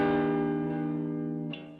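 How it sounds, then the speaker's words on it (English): Clean electric guitar chords ring through a SEM-style synth filter, sustained and steady with a bright shimmer, the tone thinning slightly before a chord change near the end; no one speaks. "Here we have a very nice clean guitar chord progression going on."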